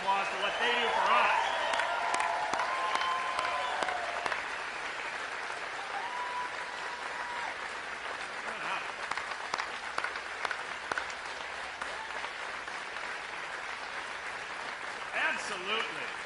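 Audience at a Wisconsin event with a politician applauds local law enforcement officers: a steady wash of crowd clapping, moderately loud, with voices and tonal sounds heard faintly over it.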